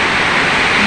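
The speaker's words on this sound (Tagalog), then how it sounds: "patak na ng patak tingnan nyo po, sobra talagang hangin." Loud, dense rushing noise of heavy typhoon rain with gusting wind roaring close by, steady throughout the short moment.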